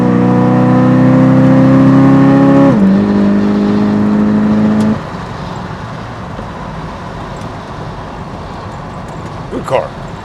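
An Oldsmobile Vista Cruiser wagon with a 455 big-block V8 drones steadily at cruising speed, its strong low engine hum shifting pitch and easing into rougher road rumble partway through.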